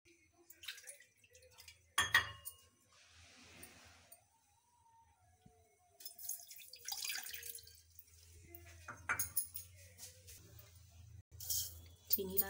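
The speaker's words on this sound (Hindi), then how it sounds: "अब इसमें मैं डालूंगी 1 कप पानी।" Water poured into a pan on the stove for spiced masala tea, with splashes and dribbles in short bursts amid clinks of kitchen utensils, faint and close, no talk over it.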